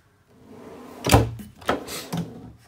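A kitchen drawer in a 2020 Grand Design Imagine 3000QB travel trailer slides and knocks shut, a few close, fairly loud thumps and rattles in quick succession with no talking.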